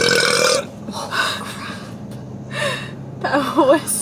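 A person burps several times during a casual food-tasting chat, with a long belch at the start and shorter eructations later, close to the mic and loud, between bits of voice.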